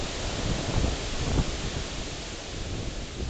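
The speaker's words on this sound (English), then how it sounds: "That had to be 100 plus mile an hour" Roaring hurricane wind from Hurricane Sandy on a back deck, a broad, continuous rumbling rush with a stronger gust surging near the middle, close and loud with no talking.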